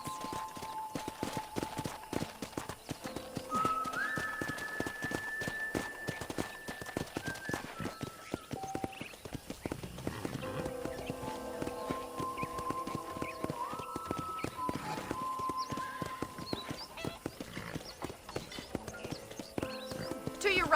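Horse hooves clip-clop steadily through a ranch in the Western video game Red Dead Redemption, an even rhythm running beneath people talking, with musical tones and an occasional whinny.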